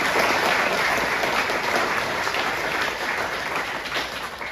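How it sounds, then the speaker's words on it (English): Audience applauding the crew behind an event setup, a full, dense applause that swells at once and then slowly eases off over a few seconds. "can we just give a clap to the crew who did this both physically and logistically?"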